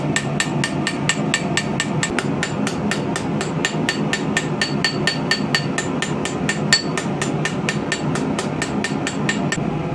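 Knife handle being textured on an anvil with a texturing tool, struck by a fast, even run of sharp metallic hammer blows, close and loud, keeping a consistent rhythm throughout.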